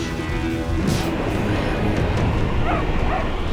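A dog gives short yips and whimpering barks close by, mixed into a loud, busy dramatic scene with a dense wash of background noise.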